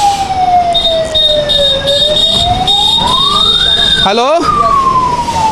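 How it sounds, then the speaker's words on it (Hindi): An ambulance siren wails in slow rising and falling sweeps, loud and close, while the vehicle sits stuck in a traffic jam on the Gandhi Setu bridge in Bihar, with traffic rumble beneath and someone briefly speaking over it. "जाम में एम्बुलेंस फंसा हुआ है गांधी सेतु पे"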